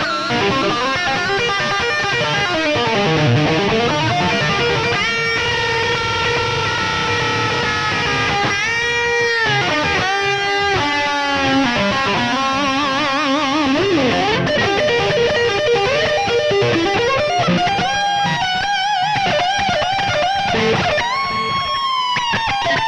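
A budget EVH Wolfgang electric guitar plays a solo melody with bends and sustained notes, distorted tone with effects, continuous and fairly loud throughout.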